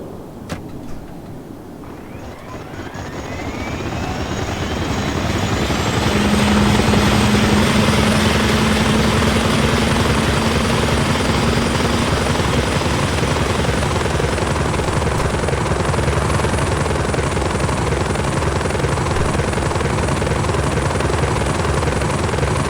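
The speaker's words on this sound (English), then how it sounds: "Now, let's move on to the helicopter sound." Helicopter from a game sound pack, rotor and engine spinning up from a low start into a loud, steady, close drone that holds for a long stretch.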